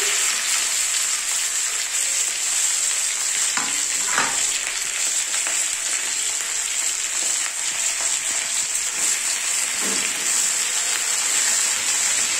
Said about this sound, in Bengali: তো এখন আমি এটার মধ্যে সব সবজিগুলো দিয়ে দিচ্ছি একসাথে।